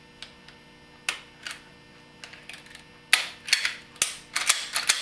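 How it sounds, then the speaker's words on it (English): Pistol slide assembly slid back onto the frame, a run of sharp metallic clicks and clacks building toward several louder snaps near the end, close and alone. "I'm just going to reinstall the slide assembly onto the pistol."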